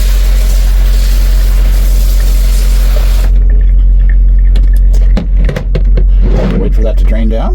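Water running and gurgling down a shower drain fitted with a hair-catching drain insert, a steady broadband wash for a few seconds, then easing off into irregular splashes and drips.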